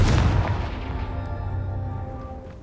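The Confringo blasting spell from the video game Hogwarts Legacy goes off as a single loud explosive boom that rumbles and slowly fades over a few seconds, heard alone.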